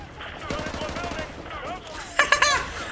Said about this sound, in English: RPGs and machine guns because they're shooting at me!